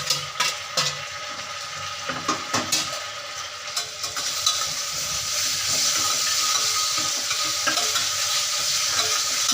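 Three chopped tomatoes frying in a pan over high flame for prawn biriyani, a few early spoon taps and scrapes giving way to a steady, rising sizzle and bubbling, close and without voices.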